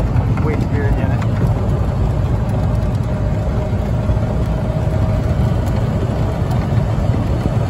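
A Canyon Copper Western 400 golf cart cruises along with a steady, loud motor drone and road rumble, wind buffeting the microphone throughout.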